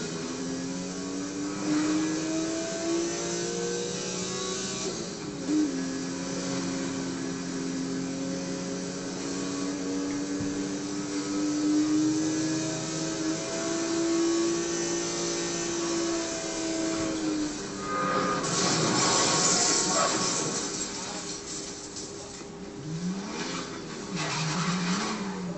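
A car is driven in Need for Speed: Most Wanted, its engine droning and rising and falling in pitch continuously, with a burst of tire noise or skidding partway through and no talk over it.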